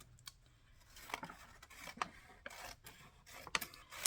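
Scissors snip through the side of a paper collage artwork, a few short crisp cuts and rasping slices spaced across a quiet background, close and soft.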